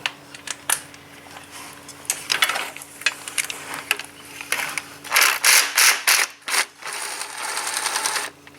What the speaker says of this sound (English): we'll start removing a few bolts now